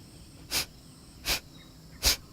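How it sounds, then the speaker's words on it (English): Three sharp, forceful breath exhalations of Kapalabhati yoga breathing, evenly spaced about three-quarters of a second apart, close and clear against a quiet background. "This is a sharp exhale followed by a natural inhale"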